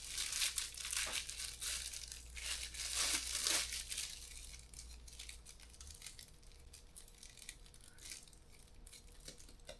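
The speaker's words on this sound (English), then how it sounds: "Guess I could unwrap my stick." Plastic packaging crinkles and tears as it is peeled off a wooden stick, close and crackly in bursts for the first few seconds, then quieter rustling.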